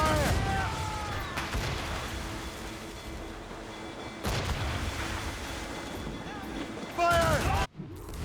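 Ship cannons fire in Assassin's Creed Rogue during a naval battle, heavy booming volleys bursting at intervals over continuous sea and battle noise, with crew voices shouting orders in between.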